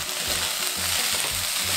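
Potatoes sizzle and crackle while being stir-fried with onion and carrot, a loud continuous frying hiss with the soft rhythmic scrape of stirring in the pan, close up.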